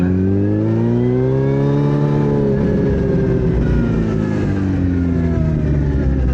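A Suzuki Hayabusa fitted with an Alien Head slip-on exhaust revs up and settles back, its loud, deep, steady engine note rising and falling in pitch right beside the microphone.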